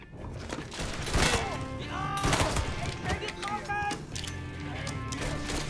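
Gunfire rattles through a shootout in the video game Mafia 3, sharp bursts and repeated shots stacked densely over busy game sound, with voices talking throughout.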